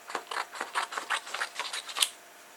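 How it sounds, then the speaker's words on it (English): Scissors cut a sheet of card in half in a quick run of about ten crisp, close snips, followed by a short quiet tail. "let's just cut the card in half roughly"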